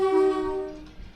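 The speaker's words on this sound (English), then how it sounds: "As we approach the crossing, I'm going to give a blast on the horn." A Class 450 electric multiple unit sounds its two-tone horn in Train Simulator, one steady blast heard close and loud that holds for about a second and then fades, with no one talking over it.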